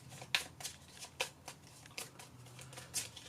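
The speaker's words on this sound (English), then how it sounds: "So I need to shuffle that deck, don't I? Give that a quick shuffle up." Playing cards shuffled by hand during an Undaunted Normandy board game, giving a series of quick, crisp riffling bursts with short gaps between them, close and fairly quiet, with no voices.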